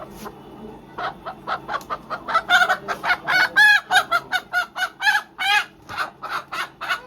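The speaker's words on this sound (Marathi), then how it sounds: "हा ती बघा कोंबडी याच्या आतमध्ये पकडली गेली आहे" Hens cluck and squawk in a rapid series of short, loud calls close by, with a couple of longer crowing-like cries in the middle.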